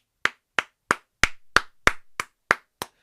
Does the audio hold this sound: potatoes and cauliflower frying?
no